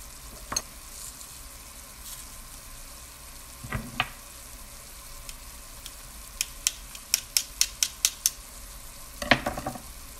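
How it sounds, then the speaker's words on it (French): Cauliflower fries in a pan over medium heat with a soft, quiet sizzle, broken by scattered clinks and taps of stirring. "je vais le faire frire 10 minutes. Le feu moyen."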